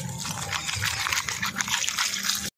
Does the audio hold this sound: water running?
yes